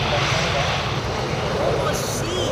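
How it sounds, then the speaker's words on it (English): An Air Dolomiti Embraer E190 landing at Amsterdam Schiphol after a flight from Frankfurt gives a brief, dense, steady engine roar, loud and close, with speech faintly under it. "landing coming in from Air Dolomiti, coming in from Frankfurt to Amsterdam. It's an Embraer E190."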